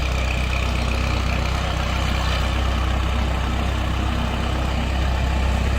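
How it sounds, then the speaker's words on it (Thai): A Kubota M5000SU four-cylinder, four-wheel-drive farm tractor from 2008 idles steadily nearby, a dense, even low engine drone with no pauses and no talk. "เสียงเครื่องแน่นๆนะครับ"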